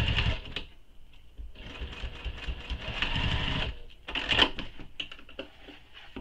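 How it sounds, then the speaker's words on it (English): Sewing machine basting nylon bag panels in place, with bursts of rapid mechanical stitching that start and stop, close and clear, with short pauses between runs. "And then we're going to baste these in place."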